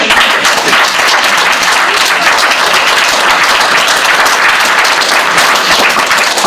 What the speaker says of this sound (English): We can all give a big round of applause.